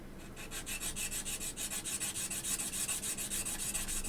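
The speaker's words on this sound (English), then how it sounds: "I'm just going to use a diamond plate now to file that down" A watch case plug is filed flat on a 2500 grit diamond plate, making a quiet, rhythmic rasping of repeated back-and-forth strokes, close and steady for a few seconds with no talk.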